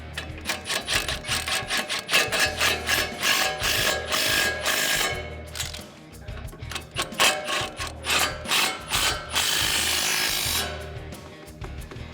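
Ratchet tightening coilover bolts during a coilover install on a 2005-2014 Ford Mustang GT, busy rapid clicking and metallic scraping in close, uneven bursts with a short lull partway through.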